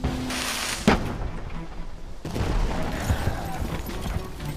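Seven Years' War battle in North America: ragged musket volleys and booming British artillery firing on the French line, a loud crack near the start, then rolling, overlapping reports with a dense battlefield rumble beneath.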